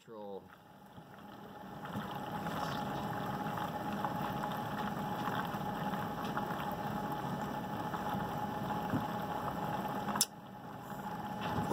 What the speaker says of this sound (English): If you let it run way too fast, which I'll do to show you,